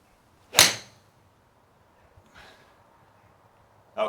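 A golf ball is struck with a Titleist 718 7-iron: one sharp, crisp impact rings out clearly, followed later by fainter rustling and the start of another sharp hit.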